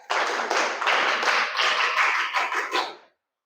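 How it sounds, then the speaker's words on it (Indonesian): Students in a junior high classroom clap for a group of classmates, a brisk, close burst of many hands lasting about three seconds before stopping abruptly into silence. "tepuk tangan buat kelompok Arya"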